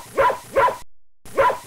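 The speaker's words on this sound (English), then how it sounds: "It is a dog." A dog barks in a children's language-learning cartoon, three short close barks with a pause before the last, loud and alone without speech.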